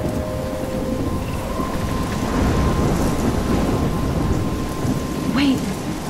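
A heavy thunderstorm with steady pouring rain and a low rumbling of thunder, dense and loud throughout with no pauses.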